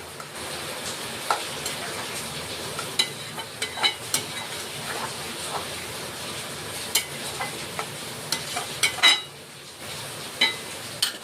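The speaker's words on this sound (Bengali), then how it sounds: "সেটাকে ভালো করে মিশিয়ে আমরা এই চিকেনের মধ্যে দিয়ে দেব, দিয়ে আমরা ভালো করে মিশিয়ে নেব।" Fresh cream is stirred into chicken korma in a pan, with a steady soft sizzle under repeated clinks and scrapes of a spoon against the metal, close up and without voices.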